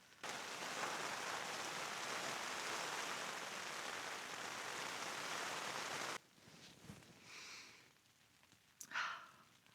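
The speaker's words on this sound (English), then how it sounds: "the rain has been going on and off for a while now, and my tent is still holding up." Rain patters steadily on a tent during a thunderstorm, a dense even hiss of drops for several seconds before it cuts to quieter rustling and a few faint soft sounds.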